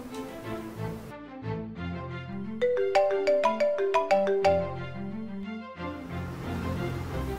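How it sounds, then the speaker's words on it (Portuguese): A melodic electronic phone ringtone plays, a repeating tune of bright chiming notes over a soft backing, loud and close with no speech. "Vou ligar para Ana Lúcia, mãe da Ana Clara."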